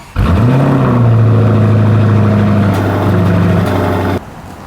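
A supercar engine in a private car collection garage fires up and revs hard, a loud sustained roar that climbs in pitch, holds steady, then cuts off sharply.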